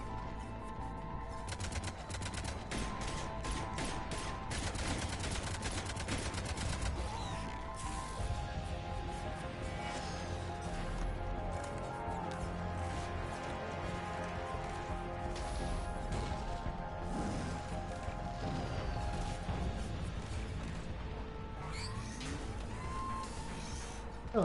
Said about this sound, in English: Cannons engaging.